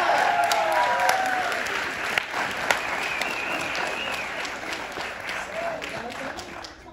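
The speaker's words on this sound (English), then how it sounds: "Big round of applause for Haciana." A live tour crowd in Washington D.C. applauds loudly as Haciana comes up on stage, a sustained dense roar of clapping and cheering that eases off slightly toward the end.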